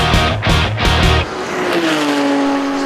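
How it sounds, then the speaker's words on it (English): A Team Parker Porsche race car in an endurance race at Rockingham, engine roaring loudly with gear-change bursts as it enters the pit lane, then settling into a steady lower drone and easing off. "Into the pit lane then comes the Team Parker Porsche"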